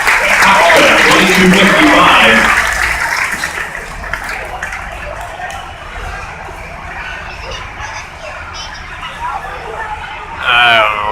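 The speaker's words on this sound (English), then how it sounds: "let's give him a tough round of applause here" Crowd applause in the grandstand at the Troy fair tractor pull, loud and dense for the first few seconds, then thinning into a lower crowd murmur with a brief renewed burst near the end.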